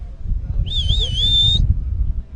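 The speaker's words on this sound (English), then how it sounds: "Everybody needs to learn to whistle like that." A loud, high, wavering whistle held for about a second, cutting through steady crowd and wind noise at a Big Air kitesurfing competition finals.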